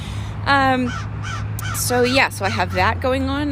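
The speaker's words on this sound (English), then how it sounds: "If you can hear my crows in the background, they're all hanging out." Several crows caw repeatedly in the background, their harsh calls coming in bursts while a person talks steadily over them.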